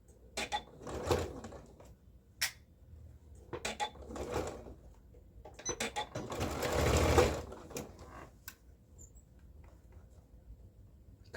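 A sewing machine stitching a collar onto a blouse, running in several short, close bursts separated by pauses, with a longer steady run near the end.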